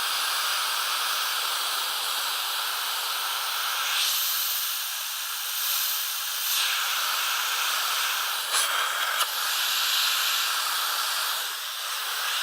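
An airbrush sprays paint in a light, feathered dusting stroke, giving a steady airy hiss that swells and eases in brief pulses as the trigger is worked, with no voices.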